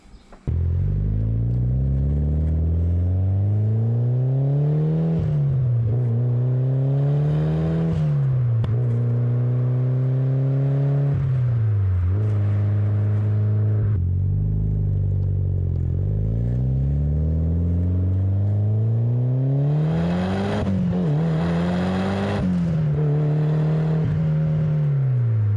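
A Mitsubishi Evo 4 with new shifter bushings drives steadily, its engine note rising through each gear and dropping at every shift in a repeating pattern, loud, close and continuous inside the cabin with no talk.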